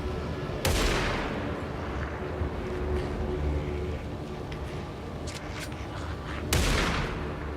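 Gunfire in Alan Wake 2, two sharp loud shots about six seconds apart with a booming tail, set against a dense, rumbling background din.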